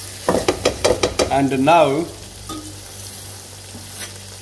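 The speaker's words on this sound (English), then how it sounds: "Give it a stir and make sure nothing is sticking at the bottom of the pan." Lamb curry sizzles in a pan as a utensil stirs it with several quick scraping strokes. A voice speaks briefly over the stirring, then a steady, quieter frying hiss carries on alone.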